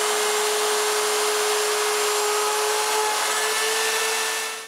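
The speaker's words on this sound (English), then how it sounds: "I'm using my slot mortiser to have a straight hole" Slot mortiser cutting a straight hole into a glued wooden bellows, a steady, loud, continuous motor whine with a constant pitch that holds for several seconds before trailing off at the end.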